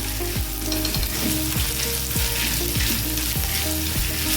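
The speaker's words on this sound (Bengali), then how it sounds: "আদাটাকে একটু ভেজে নেবো" Ginger frying in hot oil for a Bengali greens and eggplant dish, a loud continuous sizzle broken by regular scraping strokes of a spatula against the pan, close and without talk.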